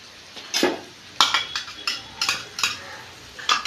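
Green chillies and garlic being stirred in a pan, a metal spoon scraping and clinking against the pan in several separate strokes, fairly close and with no voices.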